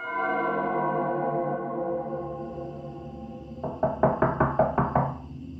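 Knuckles rap on the wooden door of room 04, at the end of the hallway at the top of the stairs, in about six sharp, evenly spaced knocks that follow a few seconds of a steady humming drone.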